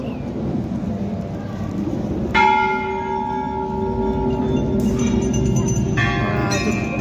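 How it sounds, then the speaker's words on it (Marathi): Metal bells at a forest goddess temple, where many bells are tied up, are struck a few times with ringing, sustained tones. Each strike rings out over a steady outdoor background hiss. "सगळ्या घंट्या बांधलेल्या आहेत"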